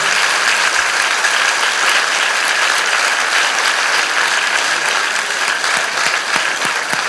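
A concert audience at a Greek light-song evening applauds the soloist with loud, sustained, evenly dense clapping that carries on unbroken, with no voices over it.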